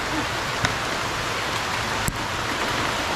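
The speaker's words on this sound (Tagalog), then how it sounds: "Umuulan kasi eh." Steady rain falls continuously, a dense even hiss with a couple of brief sharper taps or drips standing out; no voices are heard.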